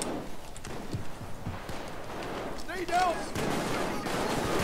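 Gunfire in the heist shooter Payday 2, a busy clatter of shots running under game noise and a fairly loud, continuous mix, with no clear individual bursts standing apart.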